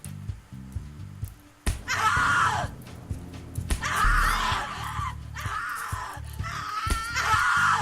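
Woman screaming in The Cat Lady video game, loud repeated shrieks in bursts after a quiet opening with a sharp hit, several piercing cries separated by short gaps.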